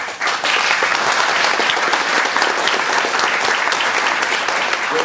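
Sustained audience applause fills a political forum on funding the Afghanistan war escalation, a dense, steady wash of clapping that stays loud throughout.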